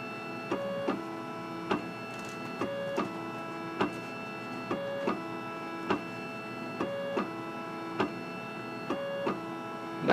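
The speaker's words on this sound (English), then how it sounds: "the carriage is going to move left to right respectively, and you're going to hear the noise of the carriage" A Braille Blazer braille embosser runs steadily as its carriage moves left to right, with repeated sharp clicks and tonal whirring pulses in a regular rhythm, fairly close and unaccompanied by talk.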